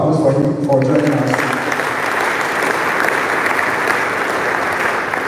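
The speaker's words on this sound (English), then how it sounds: "Another one of applause for him for joining us." Sustained applause fills a great hall at an educational conference as the crowd claps for an arriving minister, a dense, even roar of hands following a brief spoken line at the start.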